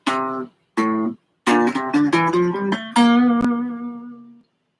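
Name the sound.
guitar playing a Lydian scale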